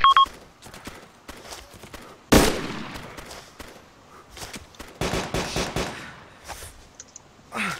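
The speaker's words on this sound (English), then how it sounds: "Enemy machine gun to our right flank." An enemy machine gun firing in Arma 2, with bursts of rapid shots: a sharp loud crack near the start, scattered quieter rounds, then another dense burst in the middle and a few later shots.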